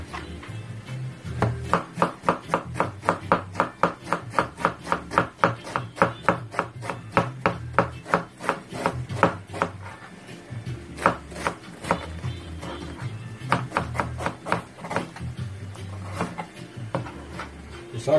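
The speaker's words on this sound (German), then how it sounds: "So, ich zeige es erstmal, wie man Rotkohl schneidet." A knife chops red cabbage on a cutting board in a fast, steady rhythm of sharp knocks, close and loud, slowing briefly midway before resuming.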